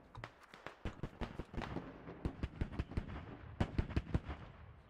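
Artillery pounding fortifications in the video game Squad: a rapid series of sharp, distant booms and cracks, dozens of impacts in uneven clusters over a low rumble.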